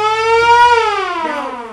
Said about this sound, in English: the first one is a siren